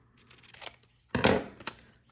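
Scissors cut a paper journal tab piece in two crisp snips close by, a short quiet one followed by a louder, fuller cut with a small click at the end.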